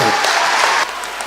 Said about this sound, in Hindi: बेगूसराय के लोगों से आग्रह करता हूं कि नीतीश कुमार जी के लिए जोरदार ताली बजाकर स्वागत कीजिए